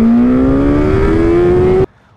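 A 2024 Suzuki GSX-S 1000 GT motorcycle, an engine derived from the K5 1000, revs upward in a loud rising whine under acceleration, then cuts off abruptly into near silence.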